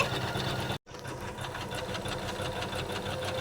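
An Usha 550e embroidery machine stitches flowers on a back-neck design in a single frame, its steady rapid mechanical whirring and needle chatter running loud and close throughout, broken once by a brief dropout.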